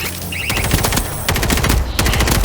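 Rapid automatic gunfire rattles in World War Z during a zombie horde mode, dense bursts of shots loud and close with brief pauses between volleys.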